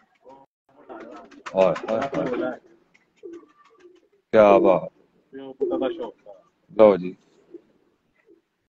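A pure medical-strain Sialkoti pigeon coos in a few short, throaty bursts close by, mixed with someone talking between them.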